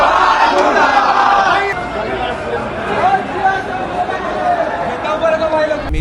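Student protesters outside a mall entrance shouting slogans together, a loud dense crowd of overlapping voices rising and falling in chant-like waves.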